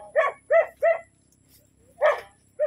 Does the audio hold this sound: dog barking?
yes